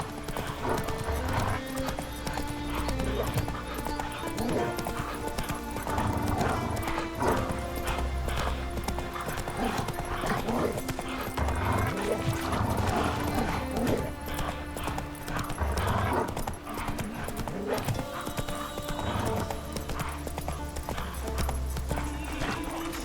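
Geralt's horse Roach trotting in The Witcher 3: Wild Hunt, a continuous rhythmic clip-clop of hooves with occasional snorts, over a dense bed of ambient music and background sound.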